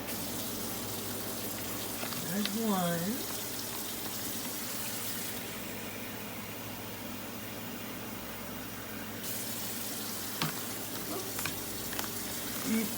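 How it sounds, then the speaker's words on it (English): Warm water runs from a tap into containers, a continuous hissing gush with a brief rising splash early on as a container fills, while a person says a few words. "fill these up with some warm water"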